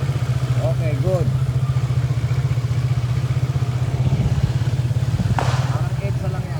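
A big bike motorcycle engine idles steadily in a dense, throbbing low rumble throughout, with faint traffic clatter around it.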